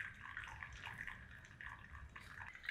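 Hot water poured over a Chemex paper filter as a pre-rinse, a soft, steady trickling and splashing stream with small surges, quiet and close with no talking.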